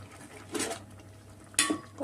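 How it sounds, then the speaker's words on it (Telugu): A utensil scrapes and clinks against a pot while sorakaya (bottle gourd) curry is stirred after coriander is added, with two short close metallic bursts over a faint steady hum. "కొత్తిమీర వేసుకున్నాక ఒకసారి కలుపుకుందాము."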